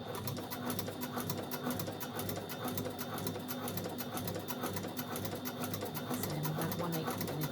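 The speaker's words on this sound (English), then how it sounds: "I'm going to back stitch because they're a belt loop." A sewing machine back stitches across a belt loop, its needle running in a fast, even, continuous rhythm for the whole stretch, close and steady, alone with no speech.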